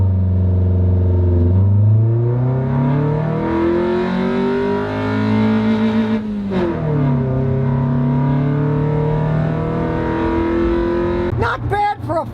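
A cheap $400 used car with high mileage accelerates hard from a standing start on a country road, the engine note climbing through gears with a shift partway, loud and close from inside the car.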